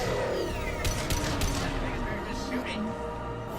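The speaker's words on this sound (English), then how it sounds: "Just shooting." Gunfire in the video game Mass Effect 2, a cluster of quick sharp shots near the middle over a constant loud game backdrop, with a voice talking alongside.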